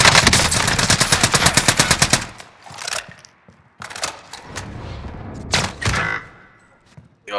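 Call of Duty machine gun fire on Rebirth Island, opening with a fast, loud, sustained burst of rapid shots. Sharper separate gunshot bursts and thuds follow after short gaps.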